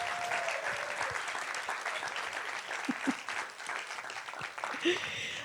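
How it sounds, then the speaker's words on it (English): A crowd at a book event applauds the authors, a moderate wash of clapping in a room with audible murmurs and a few voices mixed in underneath. "Let's just give them a general round of applause for showing up."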